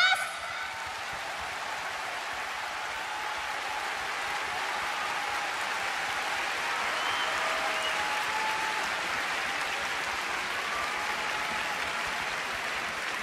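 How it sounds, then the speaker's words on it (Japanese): A crowd at an AKB48 idol group event applauds seven members, a dense, steady wash of clapping that holds evenly loud for about thirteen seconds with no speech over it. "7人のメンバーにもう一度大きな拍手をお願いします"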